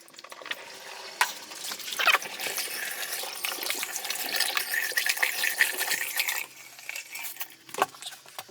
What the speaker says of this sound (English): So we'll just go ahead and drain it